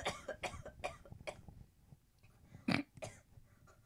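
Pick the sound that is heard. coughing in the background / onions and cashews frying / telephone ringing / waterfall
coughing in the background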